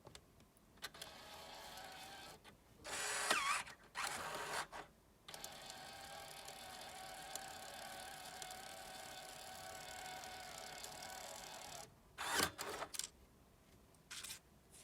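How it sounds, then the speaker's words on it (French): Brother PT-E550WVP industrial label printer running a print job, a steady mechanical whir with short louder bursts of feed and cutting noise near the start and end, close and alone without speech. "Je vais donc lancer l'impression en appuyant sur le bouton imprimer."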